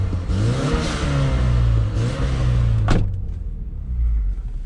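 A 2005 Opel Vectra GTS 2.0 turbo with mufflers and a catalytic converter is blipped several times close by, its engine rising and falling in repeated revs, with a short clatter near the end.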